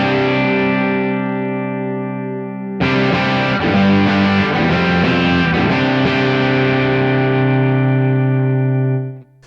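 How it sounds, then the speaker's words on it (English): Electric guitar played through a Thorpy FX Warthog distortion pedal with mid-focused overdrive, a sustained distorted chord ringing out, briefly thinning, then a fresh loud strum with moving notes that rings on before cutting off. "For a familiar kind of mid-rangey overdrive sound, we can crank it up a bit higher."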